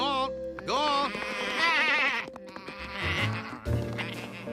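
Several sheep bleat in overlapping, wavering cries close by, one after another, with a few low thuds and shuffling sounds between them.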